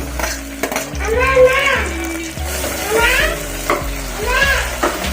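Tomatoes go into a pan of browned onions frying for chicken biryani. A loud, continuous sizzle with stirring scrapes runs under a person speaking.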